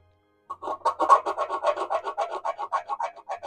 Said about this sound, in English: I'm just going to scribe it there